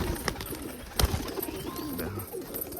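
Pigeons coo softly nearby, with low throaty calls and a sharp knock or flap around the middle, and faint ambient noise in between.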